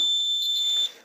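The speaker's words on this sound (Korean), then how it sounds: "단선이라고 떠요. 그래서 부저가 계속 울어요." Buzzer on a fire alarm control panel sounding continuously for a broken detector line, a steady high-pitched electronic tone that cuts off after about a second.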